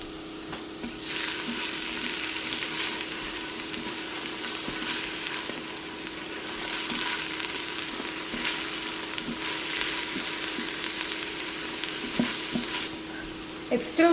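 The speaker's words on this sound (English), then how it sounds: "And as you can hear, it's sizzling already." Garlic sizzles in hot oil inside a preheating Simfonio Simpot 8-quart electric pressure cooker, a steady close crackling hiss that runs throughout with small bursts of popping and no talk.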